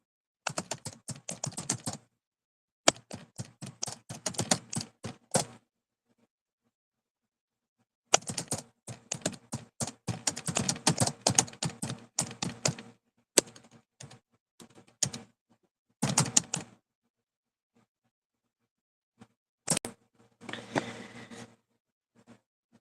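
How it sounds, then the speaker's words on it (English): Rapid clattering keystrokes on a computer keyboard come in several bursts separated by silent pauses, close and crisp with no talking. "it should have processed my typing too"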